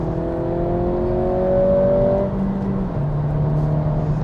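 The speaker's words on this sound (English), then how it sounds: "There's a little bit of rev hang when you do a very quick shift" 2023 Acura Integra A-Spec engine revving through a quick shift, a smooth rising whir that hangs briefly before the pitch steps down, loud and close from inside the car.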